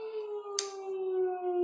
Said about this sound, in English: there's some kind of air raid siren going off